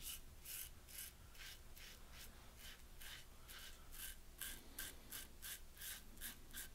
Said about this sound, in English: you can hear that razor working.